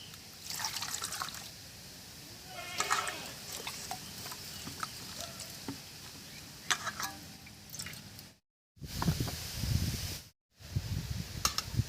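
A peeled radish is washed in water, with splashing, trickling and dripping sounds that come in uneven bursts, close by and fairly quiet, broken by two brief cuts to silence.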